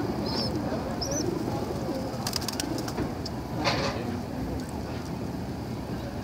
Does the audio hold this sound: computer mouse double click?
no